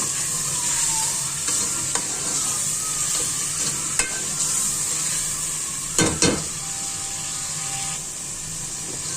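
Ginger garlic paste fries with onions in oil for a spinach and beef curry, giving a constant bright sizzle with occasional scraping stirs and a couple of louder clatters near the middle.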